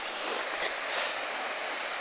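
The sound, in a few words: waterfall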